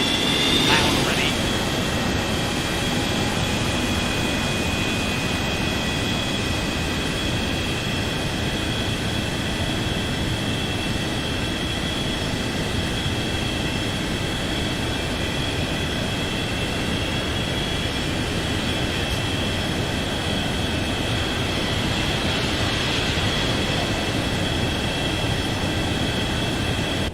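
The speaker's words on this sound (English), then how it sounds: "I can barely hear it for the engine starting." Boeing 727 freighter jet engines spool up in the X-Plane flight simulator, a loud steady roar with a high whine that holds throughout, accompanied by a voice talking over it.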